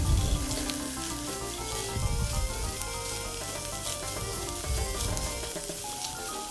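Noodles and sardine sizzle and fry steadily in a pan while being stirred, a continuous close hiss with occasional scraping from the stirring and no talk.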